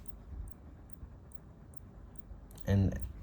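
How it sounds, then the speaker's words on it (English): A faulty Spigen 65W GaN charger gives faint, regular clicks about every half second after being plugged in, followed by a brief louder burst near the end. "I believe you can start hearing the clicking noise."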